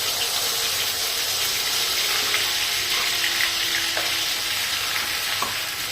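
Spice masala sautés in two spoons of oil over a low flame, a loud, continuous, close frying sizzle with occasional faint stirring scrapes and no voices.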